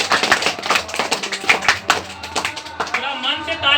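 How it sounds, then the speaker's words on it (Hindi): A classroom of students claps loudly in irregular, uneven bursts during a motivational class, with a voice talking over the clapping. "एक बार जोरदार ताली।"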